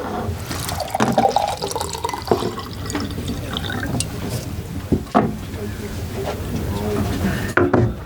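Water is poured and sloshes in an irregular, close splashing and trickling that runs through the whole clip over a busy background.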